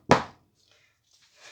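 A soap mould is banged down once on a surface during cold process shea butter soap making. It gives a single loud, close thunk, then near silence with faint rustling.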